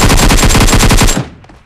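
Rapid automatic gunfire from the video game BGMI, a loud continuous burst of about a dozen shots in quick rhythm that cuts off abruptly, leaving a faint fading tail.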